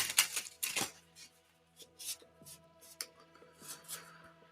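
A tarot card deck being shuffled, with quick riffling bursts at the start and lighter intermittent card rubs and taps continuing after, close and fairly quiet, no talking.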